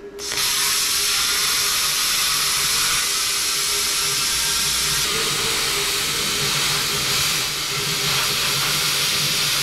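Cutting tool slicing through the steel tank of a leaking air compressor, a loud, continuous high-pitched grinding hiss that runs unbroken with slight shifts in tone and no voices.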